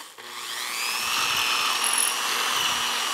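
A drill used as a milling cutter spins up and cuts into metal, a rising high whine that settles into a steady grinding screech, close and loud.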